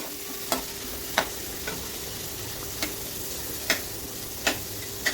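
Mixed vegetables and green chilies sauté in oil for a veg dum biryani, a steady close sizzle broken by regular scraping knocks of a spoon stirring the pan.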